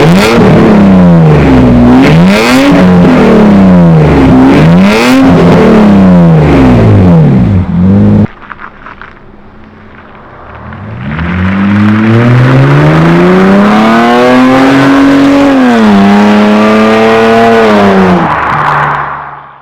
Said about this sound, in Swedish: vi börjar med att starta bilen helt enkelt